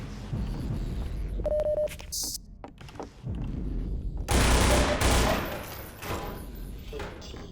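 Gunfire in the Half-Life mod Coterminus, loud game shots and bursts mixed with other game effects and bleeps, with a person talking over the top.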